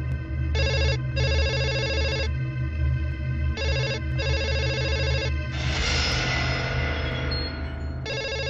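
Telephone bell ringing in a Tamil film scene, loud repeated electronic ring bursts over a steady background score, then a swelling musical swell takes over near the end.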